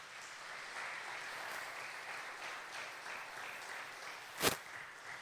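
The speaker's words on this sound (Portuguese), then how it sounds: "Eu quero um aplauso para o Senhor." A church congregation gives a soft, distant round of applause that holds steady as a diffuse wash, with one sharp louder clap near the end.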